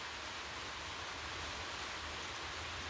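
Steady, dense rain hisses evenly throughout, a close, continuous wash of falling water with no breaks and no voices.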